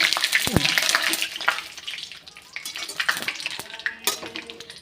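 Black mustard seeds and curry leaves sizzle and spatter in hot oil, with sharp crackling pops and stirring noises up close and a voice talking intermittently.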